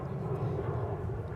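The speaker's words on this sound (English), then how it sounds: "You see American Airlines Flight 2591 going through the screen there" An American Airlines airliner passes at Dallas/Fort Worth Airport with a steady, moderately loud low rumble of engine noise that holds evenly through the whole short moment.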